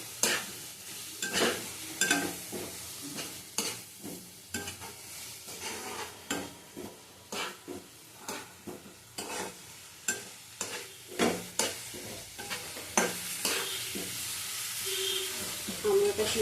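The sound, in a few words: Kashmiri chilli powder and dried chillies frying in oil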